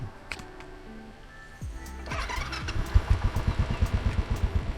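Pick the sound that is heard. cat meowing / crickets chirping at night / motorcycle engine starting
motorcycle engine starting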